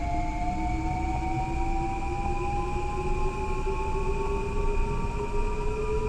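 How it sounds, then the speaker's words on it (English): A Metro North M8 electric multiple unit in the Train Sim World 6 game hums steadily as it runs, with sustained tonal motor whine rising slowly in pitch over a constant rolling rumble, no voices. "This train does make a different noise, and it's awesome."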